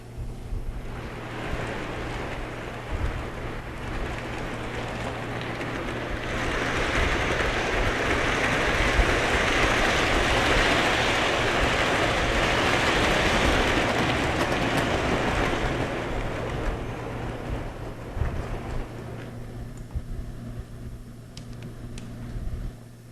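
A model freight train runs at high scale speed, its wheel rumble and rail clatter swelling as it passes close, holding for several seconds, then fading away into quiet.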